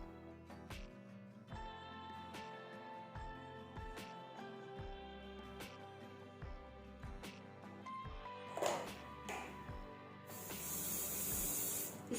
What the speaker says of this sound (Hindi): स्प्रे अच्छे से यूज़ करना है।